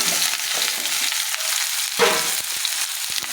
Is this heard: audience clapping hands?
no